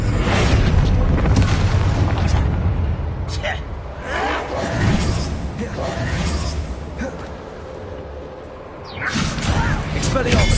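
A Confringo spell in Hogwarts Legacy bursts with heavy booming blasts and rumbling impacts amid combat noise, with a voice heard over the explosions.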